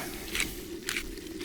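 A pepper mill grinds freshly milled black pepper for quick plov, making two or three short, dry crunching bursts close by.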